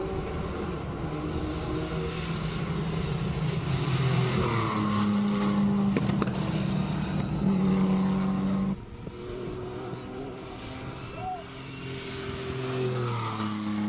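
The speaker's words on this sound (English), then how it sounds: "Turbocharged AC Cobra." Turbocharged AC Cobra at a classic car hillclimb, its engine note rising and sustaining loudly before dropping off abruptly, then a lower rumble continuing as the car runs on.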